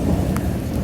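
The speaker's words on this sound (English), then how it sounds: "Are you barking at the thunder?" Thunder rumbling during a rainstorm, a low continuous roll with steady rain hiss over it, heard for under a second.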